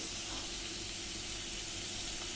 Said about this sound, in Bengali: দিয়ে আমি মাছটাকে ভেজে নিচ্ছি